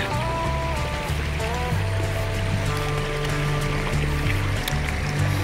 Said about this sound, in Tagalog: Ay, yung agos ng tubig.